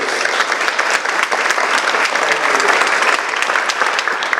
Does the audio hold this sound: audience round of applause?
yes